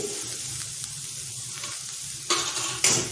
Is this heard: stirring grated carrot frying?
yes